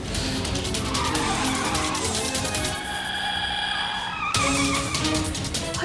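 A car is driven fast, with tires skidding and squealing over a loud, continuous engine roar, and a sharp screech toward the end.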